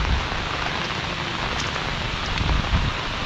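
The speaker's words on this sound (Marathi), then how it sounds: "पाऊस बघा किती पडतोय" Heavy monsoon rain falls hard and steadily in Naringre, Devgad, a dense, continuous roar of drops beating on surfaces close by, with no voices.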